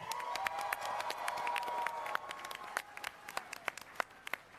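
Sparse, scattered claps from a convention audience welcoming a speaker, beginning as a thin ragged round of applause and dwindling to a few isolated hand claps.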